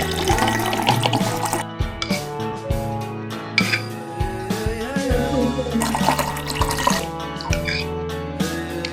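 Drinking water pours into a plastic bottle for a microbial starter mix, a close gurgling and splashing fill that runs steadily with small bubbling surges.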